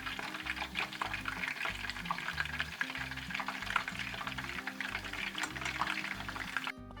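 Homemade chips for fish and chips frying in a pan of hot oil, a steady close crackling sizzle with bubbling that continues throughout, with no talk over it.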